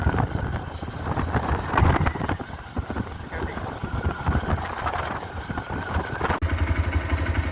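Rushing wind buffets the microphone while a motorcycle engine drones underneath, a continuous roar of riding at speed downhill from Kadambur.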